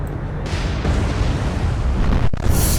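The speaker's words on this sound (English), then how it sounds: "Chokai struck by torpedo." Torpedo exploding against the Japanese cruiser Chokai in the naval game War on the Sea, a loud, sustained rumbling roar of blast and debris that swells and churns for several seconds, close and heavy, without speech.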